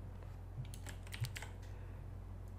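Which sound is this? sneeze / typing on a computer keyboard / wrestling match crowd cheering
typing on a computer keyboard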